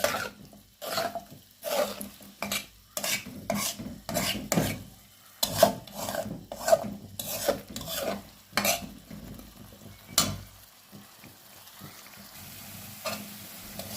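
Potatoes and tomatoes sautéed in a pan give rhythmic, close stirring scrapes with a low sizzle between strokes, repeating steadily and fading slightly toward the end, with no voices.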